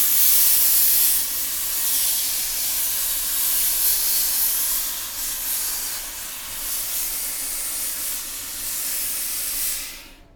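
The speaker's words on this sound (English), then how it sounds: "I used my Laura Star ironing system because I can get so much steam out of the iron" Laura Star steam iron releasing a strong, continuous hiss of steam onto fabric during a sewing project, loud and close, holding steady for about ten seconds before cutting off abruptly.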